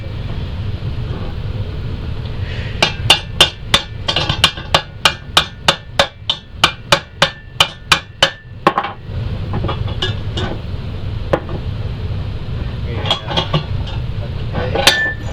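Rubber mallet striking a stuck nut on a Federal model siren during motor cover disassembly, a rapid series of about fifteen sharp metallic knocks, close and loud over a low rumble, then a few scattered taps.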